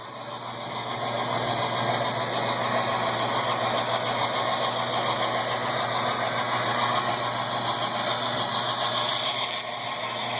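A model train engine chugs and runs continuously at a steady, even drone for the full stretch, close and moderately loud, with no talking.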